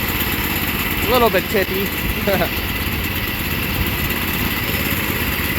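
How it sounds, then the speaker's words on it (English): A small engine runs steadily on choke, burning off old fuel as a constant, fairly loud droning idle that carries on throughout. A voice speaks briefly over it. "It's running on choke because I'm trying to burn up the old fuel faster too."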